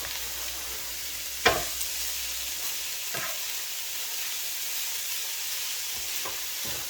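Bean sprouts stir-frying in a hot pan, an even hiss of sizzling oil with a few distinct clanks and scrapes of a utensil spaced across the stretch, near and unaccompanied by speech.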